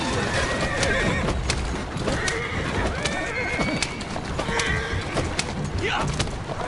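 A horse whinnies and its hooves clip-clop in the video game Assassin's Creed Syndicate, with repeated neighs over steady hoofbeats and a voice talking through part of it.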